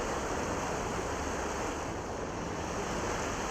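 A waterfall in the video game The Talos Principle roars as a steady, dense, unbroken wash of falling water, loud and close with no other sounds.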